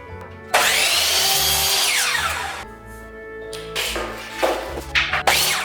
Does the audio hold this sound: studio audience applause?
no